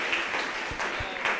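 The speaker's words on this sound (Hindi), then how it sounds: "एक बार जोरदार तालियों के साथ सम्मान।" Audience applause at a Jain religious question-and-answer gathering with Sudha Sagar Ji Maharaj, a steady moderate clatter of many hands heard briefly with no clear talk over it.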